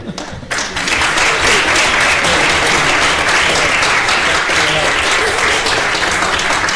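A large conference closing-ceremony crowd applauds steadily and loudly, dense clapping filling the whole stretch after a brief quieter start.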